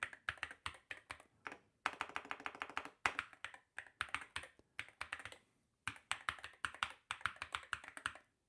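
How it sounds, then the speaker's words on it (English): Loud computer keyboard typing in bursts of rapid, close clacking keystrokes, separated by short pauses, with no voices. "My keyboard is very loud."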